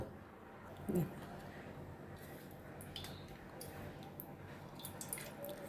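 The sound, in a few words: food being dipped in water in a plate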